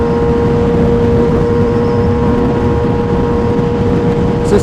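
Kawasaki ZX6-R 636 sport bike with an aftermarket exhaust holding a steady high engine drone while riding, loud and close under constant wind noise, no clear rev changes.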